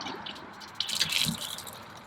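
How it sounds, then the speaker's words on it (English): Hot water from a campervan tap fed by a Kampa Geyser heater gushes and splashes, starting softly and then growing into a bright, steady spatter close by. "Nice warm water coming out of there"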